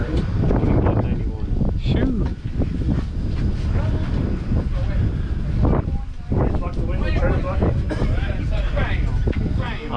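Strong wind buffets a boat on the water during a bass fishing tournament, roaring steadily and close for the whole stretch with occasional louder gusts.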